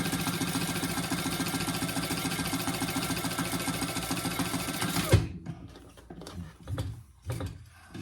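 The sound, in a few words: sewing machine top stitching a crossbody wallet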